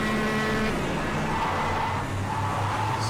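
Go-kart engines buzzing loudly in the KartKraft racing game, a continuous high-revving drone with shifting pitch and brief tire squeal, close and steady throughout.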